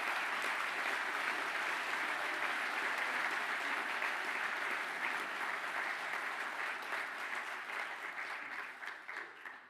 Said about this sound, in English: Now, a round of applause, please, for the new construction managers.